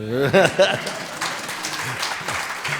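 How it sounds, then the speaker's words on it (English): Audience applause at a talk, steady dense clapping heard through someone speaking at the start, continuing on its own at moderate level. "You can clap more if you want."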